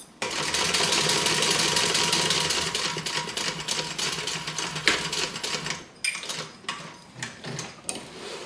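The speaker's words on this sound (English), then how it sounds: "So you're kind of almost sewing in a semicircle or in a little half circle." A sewing machine stitches a curved box corner on a bag, first in a long steady mechanical whir, then in short start-stop bursts with clicks and pauses as the fabric is turned around the half-circle.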